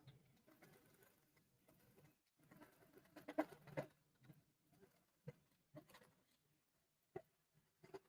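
Embroidery sewing machine stitching a design onto a quilt, a faint, rapid mechanical patter with occasional louder taps, heard alone at low level.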